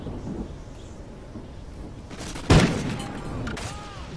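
A single sharp, booming report from a marksman rifle in Call of Duty Ghosts fires once, midway through, over low game ambience and then trails off in a short decaying rumble.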